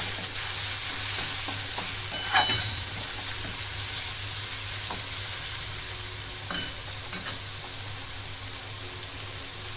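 Chopped onion sautés in oil for masala rava idli, a continuous frying sizzle broken by a few sharp scraping stirs, close and fairly loud with no voices.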